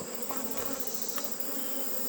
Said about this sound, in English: I'm just going to pour the bees into that cup